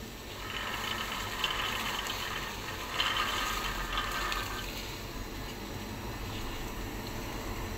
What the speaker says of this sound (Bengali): জল খুব ভালোভাবে ফুটে গেছে, এবার আমি মটরশুঁটিটা দিয়ে দিব।